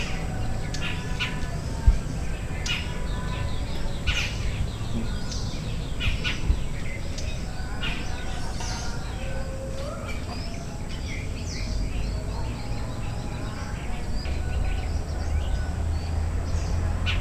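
Many birds chirp and call over a steady outdoor hiss, with faint insect buzzing in the background throughout.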